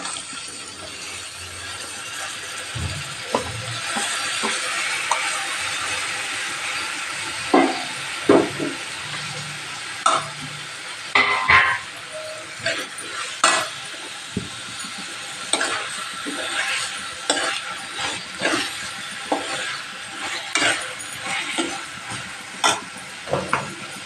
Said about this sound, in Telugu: టమాటా వేస్తున్నానండి